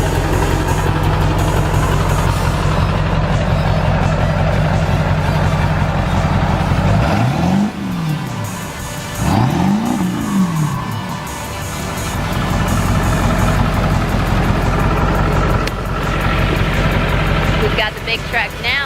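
A lifted Ford F-350 dually truck's engine idles loudly and close, a steady deep diesel-like rumble with a couple of brief revving swells midway.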